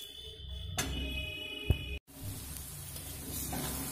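Taro leaves cooked with chana dal are stirred in a frying pan, a steady sizzle with a few scraping knocks of the spoon and a brief break.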